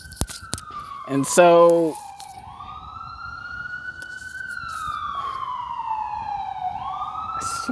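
An ambulance siren wails past on a city street, its long rising and falling tone sweeping across the scene while a brief electronic yelp bursts out near the start; a voice speaks a couple of words over it early on.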